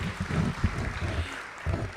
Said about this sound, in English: big round of applause for this gentleman